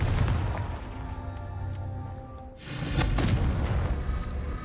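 A Confringo spell explosion in Hogwarts Legacy, a booming blast with rumbling low end that swells, dips briefly, then bursts again more strongly midway, loud and continuous for several seconds.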